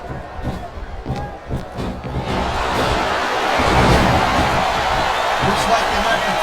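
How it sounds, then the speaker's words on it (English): A wrestling arena crowd in WWE SVR 2007 roars and swells steadily, loud and continuous, with thuds of ring action and commentary voices underneath. "this crowd is really swelling this guy's head"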